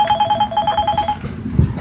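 An incoming call sets a mobile phone ringing close by, its bright tonal ringtone repeating in a quick pattern and sounding on its own.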